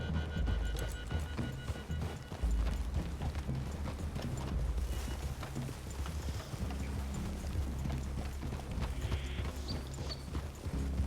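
Horses' hooves clip-clopping steadily in Red Dead Redemption 2, a continuous trotting patter close by over the whole stretch with low rumbling background and no talk.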